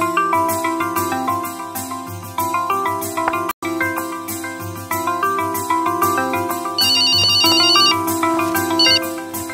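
A telephone ringtone plays continuously while an outgoing call is placed, a loud, steady musical tone pattern with repeating melodic phrases and a brief dropout partway through, no talking over it.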